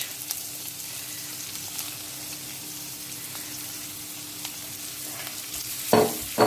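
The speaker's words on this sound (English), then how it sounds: "I can see this garlic is browning." Garlic frying and browning in a pan for vegetable fried rice, a steady close sizzle throughout, with a couple of louder stirring scrapes near the end.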